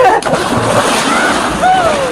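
Someone jumps into water during a playful outdoor swim. A sharp splash comes right at the start, followed by sloshing water and wind-like noise, with people's voices mixed in.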